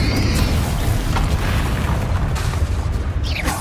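A Confringo fire-blast spell explodes in Hogwarts Legacy, a loud, sustained booming roar with heavy low rumble and crackling bursts filling the whole moment.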